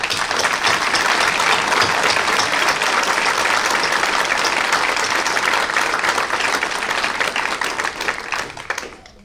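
Audience applause at a memorial service in Andrew's Theater, Keflavík, Iceland: loud, sustained clapping from a large crowd, close and even throughout, tapering off at the very end.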